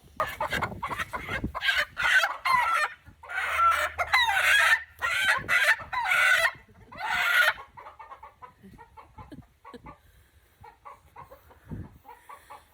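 Skittish farm chickens cluck and squawk loudly in bursts as someone tries to catch them, the commotion dropping to faint scattered clucks and rustling near the end.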